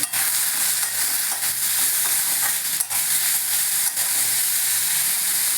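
Spices with turmeric sizzle and fry in a hot pan with a steady loud hiss, broken by a few brief scrapes as they are stirred.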